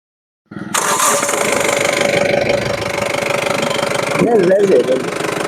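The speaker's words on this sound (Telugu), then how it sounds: "ఇంజన్ చూడండి ఫ్రెండ్స్." A Mahindra Bolero Maxitruck with 60,607 km, in good condition, idles loudly and close with a steady rough diesel clatter. A voice briefly talks over it near the end.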